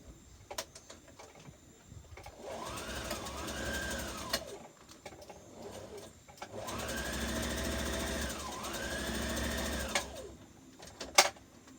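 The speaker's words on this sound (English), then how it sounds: "And your sewing machine, you're stitching 1/2 inch." A sewing machine stitches a half-inch dress seam in two sustained bursts, its motor whirring and needle rattling steadily, with quiet handling noises between and a sharp click near the end.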